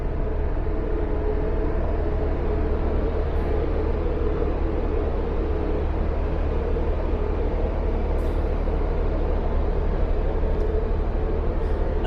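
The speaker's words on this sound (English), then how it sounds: "The noise you can hear in the background is a waste treatment plant" Steady low industrial rumble from a waste treatment plant on the shore just off a boat's starboard side near Meadow Island, a continuous broadband drone heard at a distance with no talk over it.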